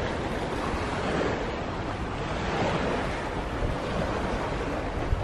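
Sea waves and wind along the Discovery Bay seafront promenade in Hong Kong, a continuous broad wash of surf with gusts buffeting the microphone, loud and steady with no talking.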